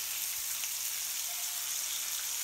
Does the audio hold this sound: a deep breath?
no